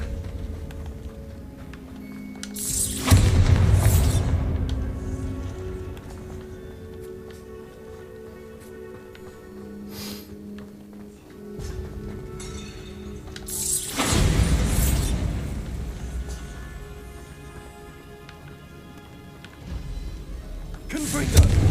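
Confringo and Bombarda spells from Hogwarts Legacy burst as two loud, booming explosions about eleven seconds apart, each with a sharp crack and a rumbling tail over a quieter background of game ambience.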